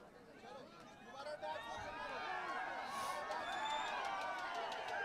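An arena crowd at a boxing match in Pakistan rises into a swelling, continuous roar and chatter, with excited voices mixed through the noise.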